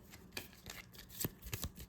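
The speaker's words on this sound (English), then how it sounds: "so I'll draw 1, shuffle this up." A deck of cards for the Slay the Spire board game is shuffled by hand, giving quiet, close riffling and slapping bursts in an uneven rhythm.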